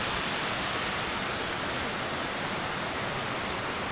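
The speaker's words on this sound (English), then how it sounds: "this rain won't hurt us" Heavy monsoon-like rain pouring down outside a farm workshop, a dense, even hiss of water on surfaces, loud and unbroken from start to end with no voices.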